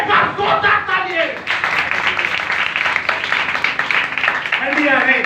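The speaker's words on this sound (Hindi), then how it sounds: "एक बार जोरदार तालियां" Loud, dense clapping and applause fills a church service, sustained throughout with voices speaking over it.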